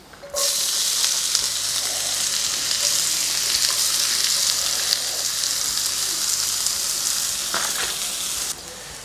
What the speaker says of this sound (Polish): Pokrojoną w kostkę cebulę obsmażamy na oliwie na dużej patelni.